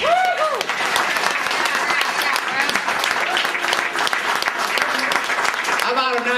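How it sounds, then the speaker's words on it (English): Sustained audience applause and cheering at a live blues band show, dense and steady throughout, with crowd voices and whoops mixed in and a few instrument notes near the end. "Round of applause"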